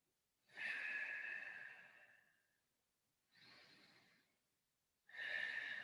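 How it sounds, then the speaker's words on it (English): Slow, audible breaths during a yoga class sun goddess pose: a long airy exhale, a shorter breath, then another strong breath, close and breathy with no speech. "Just breathing."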